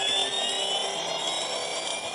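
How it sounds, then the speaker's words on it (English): Airliner jet engines on an American Airlines trijet spooling toward takeoff thrust, a steady high whine with broadband roar, heard from inside the cockpit, continuous and moderately loud. "Setting takeoff thrust."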